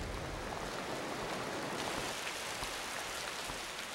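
Pouring rain in the video game Raw Danger forms a constant, soft, dense hiss that holds level throughout, with no talking.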